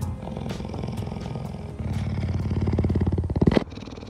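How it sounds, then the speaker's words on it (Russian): A puma, the largest cat able to purr like a domestic cat, gives a steady, close rumbling purr with a pulsing rhythm that grows louder and coarser toward the end before cutting off. "Это самая большая кошка, которая умеет мурчать."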